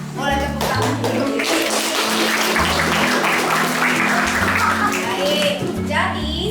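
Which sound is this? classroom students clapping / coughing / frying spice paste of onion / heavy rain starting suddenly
classroom students clapping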